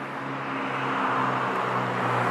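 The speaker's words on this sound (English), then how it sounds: "A little bit of traffic, but that's about it." Light street traffic in Kissimmee, Florida, a car engine rumbling nearby with a steady low hum and broadband road noise that swells slightly as the vehicle passes, no voices over it.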